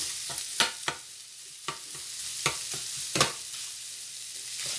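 Chopped country sausage fries in a pan with a steady sizzle, broken by several sharp scrapes and taps from a utensil breaking up and stirring the meat, with no voices.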